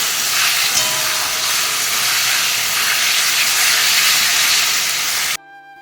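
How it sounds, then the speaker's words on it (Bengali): Potatoes stirred into a spice masala with a cumin tempering fry in a pan as a loud, steady, close hiss and sizzle, cut off abruptly near the end. "মাছ ভাজা মশলার মধ্যে আলুটা দিয়ে ভালো করে কষিয়ে নিচ্ছি"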